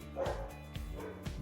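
Dogs barking nearby, three short yaps spaced about half a second apart, fairly loud and heard alone.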